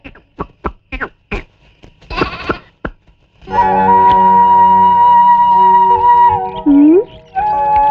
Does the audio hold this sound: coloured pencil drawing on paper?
no